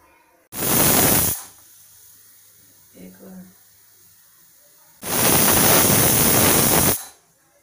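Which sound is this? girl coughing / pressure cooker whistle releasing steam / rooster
pressure cooker whistle releasing steam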